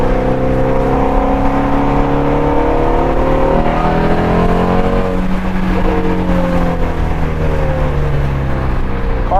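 Shelby Ford GT350 fitted with a Steeda IRS subframe brace, accelerating hard at wide open throttle, its engine note climbing through gears with a brief shift dip, loud and close from inside the cabin.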